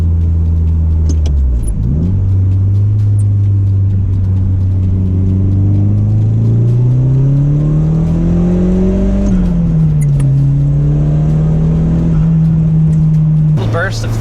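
A Nissan 180SX Sileighty engine rises and falls in pitch through gear shifts, loud and close from inside the car, with a steady droning rumble between changes and talk over it.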